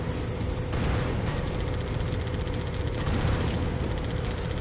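Sustained rapid fire from an enemy Ghost vehicle in Halo 2 forms a dense, continuous rattle of blasts over a rumbling battle background. The barrage is fairly loud and unbroken.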